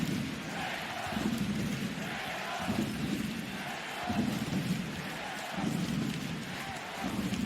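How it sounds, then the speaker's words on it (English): Trento volleyball supporters fill an arena during a Monza versus Trentino semi-final, their steady crowd roar swelling in rhythmic surges like chanting, distant and continuous throughout. "But it's the Trento supporters you can hear"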